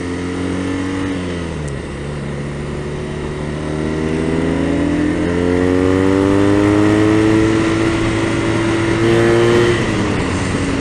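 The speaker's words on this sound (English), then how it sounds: "When I blip the throttle like that, you can feel the motor actually move the bike" A BMW R nineT Racer motorcycle engine idling close by, then the throttle is blipped so the revs dip and climb in a rising, sustained roar before settling back down.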